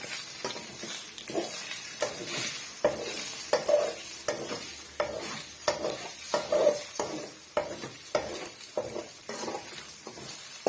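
Beaten eggs sizzle in a hot pan while a spatula stirs and scrapes them, making repeated scraping strokes over a steady frying hiss, close up with no talking.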